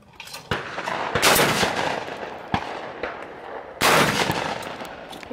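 A Benelli Montefeltro shotgun fires several loud, sharp blasts at a sporting clays range, spaced a second or more apart, each followed by a short ringing decay.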